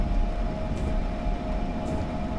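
Train in Train Simulator 2018 on the Mittenwaldbahn, accelerating with a steady, loud rumbling drone and a constant tonal hum, with no talk over it.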